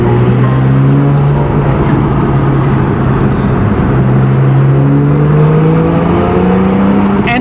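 A Porsche 911 of the 991.1 generation revs hard and continuously, its engine note rising and falling across the whole stretch, loud and close with no voices over it.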